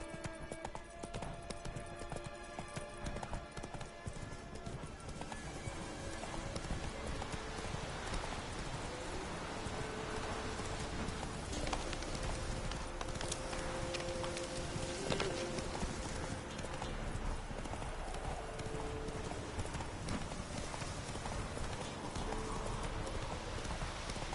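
Roach, a horse in the video game The Witcher 3, gallops with a steady, rapid clip-clop of hooves that runs continuously and loudly throughout, over a busy game soundscape.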